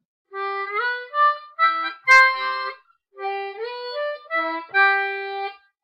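A blues harmonica plays 3-6 octave splits with tongue blocking over the 4 and 5 holes, in two short phrases of reedy stepped notes, up close and clear with no voice.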